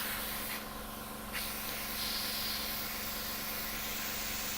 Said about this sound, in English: I'm just going to spray it onto this paper towel.